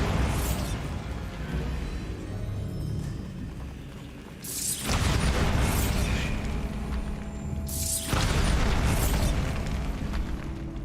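Bombarda blasting-spell explosions from Hogwarts Legacy erupt in two loud, booming bursts a few seconds apart, each followed by a rumbling, debris-filled tail, with no talking.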